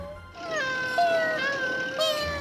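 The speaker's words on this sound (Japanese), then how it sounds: "それじゃあ幽霊の音は 子猫の鳴き声だったのか。" Kittens meow in a cartoon from the children's series Tayo the Little Bus, during a midnight ghost scare. Several high, close mewling cries overlap and slide in pitch, starting after a short quiet moment and continuing steadily.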